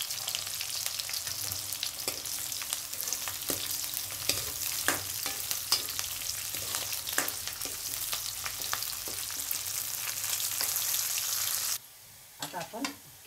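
Cashews fry in hot oil in a pan for a spicy fasting halva, a dense close sizzle with scattered crackles and spoon scrapes that stops abruptly near the end, followed by a few knocks.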